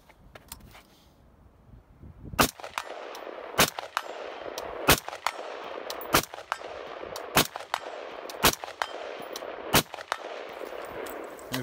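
Rifle shots at shooting practice, a string of about nine sharp loud cracks fired at roughly one-second intervals, each ringing out over a quiet outdoor background.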